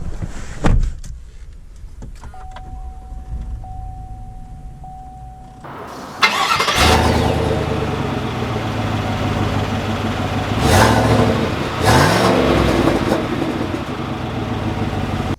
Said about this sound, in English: let's head out and take this RST out to see how it drives.